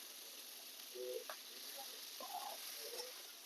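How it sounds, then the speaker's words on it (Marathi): Vegetables sizzle softly while being sautéed in a kadai for veg pulao, a faint steady frying hiss with a few scattered stirring clinks and scrapes. "आपण सगळ्या भाज्या आता नुसतं परतून घेऊया"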